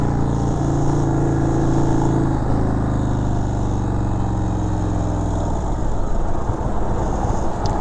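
A 2019 Indian Chieftain Darkhorse bagger with the 116 big bore V-twin rumbles steadily while riding through corners, its low engine drone loud and continuous with pitch shifts as the throttle changes, no talking.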